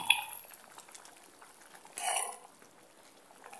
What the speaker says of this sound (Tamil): முள்ளங்கி சாம்பார் பாருங்க நல்லா கொதிச்சிருச்சு